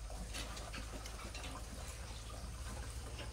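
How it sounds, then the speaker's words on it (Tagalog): Hot water pours in a steady splashing stream into a bucket of pig feed on a hog farm, fairly faint throughout with no voices. "Tapos magpuan po kayo ng mainit na tubig."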